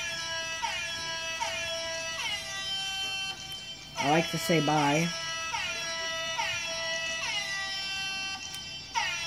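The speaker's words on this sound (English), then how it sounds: "You can't hear me over this sad, sad air horn." A sad-sounding air horn plays as part of a Minecraft PE video outro, sounding as repeated honking blasts at a steady rhythm, with a brief burst of louder sound midway and a voice talking over it.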